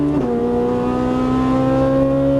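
Ferrari 458 Italia engine pulling hard at full throttle on a track, a loud steady harmonic roar with a quick upshift dip near the start, close and continuous with no talk.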